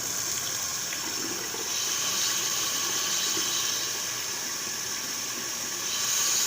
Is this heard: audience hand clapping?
no